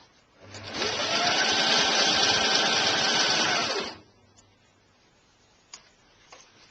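A sewing machine stitches a caftan dress in one steady, close, even-paced run of about three seconds, then stops, leaving quiet room tone and a couple of small clicks.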